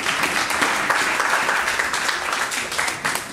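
A church congregation applauds together in sustained, dense clapping that stays loud and even for a few seconds, with a brief voice heard beneath.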